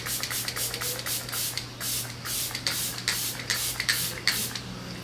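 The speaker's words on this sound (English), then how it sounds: "I like to drench my face in setting spray." Repeated short bursts of fine makeup setting spray hiss close by, a quick rhythmic series of pumps of mist onto a face with brief pauses between them.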